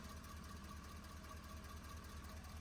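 Ford 6.7 Powerstroke diesel engine with a fuel line leak idling, a steady low rhythmic rumble heard from nearby at a constant level, with no talk.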